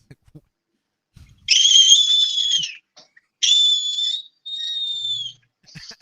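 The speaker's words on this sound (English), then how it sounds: "That's an inwards whistle register." A human voice produces an inward whistle-register tone, a piercing, pure, very high pitch held for about a second, then two shorter bursts with a slight pitch dip, close and clear.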